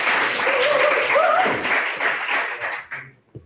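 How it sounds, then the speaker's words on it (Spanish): An audience at an AI talk applauds a speaker, steady clapping for about three seconds before it thins out and stops, followed by a few quiet stray sounds. "Un aplauso, por favor."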